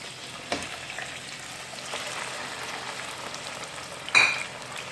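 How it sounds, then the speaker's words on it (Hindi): Chicken pieces frying in hot oil in a pan or kadai, a soft steady sizzle with a few brief clinks and stirring knocks, one sharper scrape near the end. "और इसके बाद इसमें मैं ये चिकन ऐड कर रही हूँ।"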